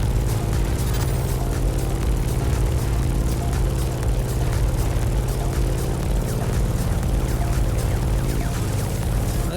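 A propeller airplane in the racing game The Crew Motorfest drones steadily in flight, a loud continuous engine hum with buzzing harmonics and no speech.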